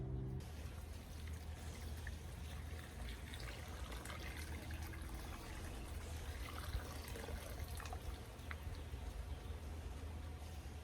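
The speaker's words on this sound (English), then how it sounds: "I'm going to bring over a pot of freshly boiled water, and I'm going to pour it into the bowl" Freshly boiled water pours from a pot into a bowl in a steady, continuous rush with no voices.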